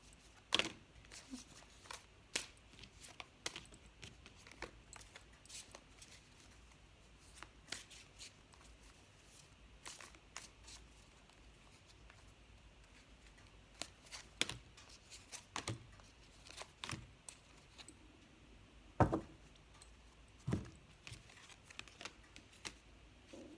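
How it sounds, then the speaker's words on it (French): Tarot cards being shuffled and drawn, soft quiet riffles and crisp slaps and flicks at an irregular pace, close up and faint, with no talk over them. "on va tirer 3 dernières cartes"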